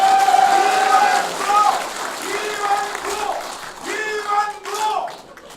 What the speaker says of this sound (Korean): 우리 기대와 염원을 담아서 큰 박수 한번 보내주시기 바랍니다